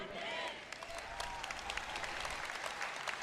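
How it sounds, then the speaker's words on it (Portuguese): Scattered clapping from an audience during a church sermon, irregular claps alongside a quieter crowd murmur, fairly faint, with someone talking underneath. "Tem uma senhora aqui na frente que bate palmas quando eu falo essas coisas"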